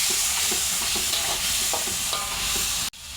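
Cinnamon, cardamom and cloves fry in hot oil, a close, bright sizzle with rhythmic stirring knocks about twice a second that stops abruptly near the end, with no talking.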